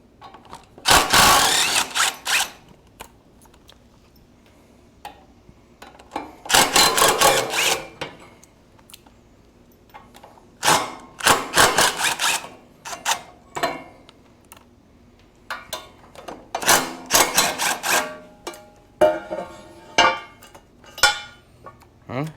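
Impact wrench spinning out 17mm bolts on a Kubota L2201 tractor, with several loud bursts of rapid rattling hammering, each lasting a second or two, separated by pauses with quieter clinks and handling.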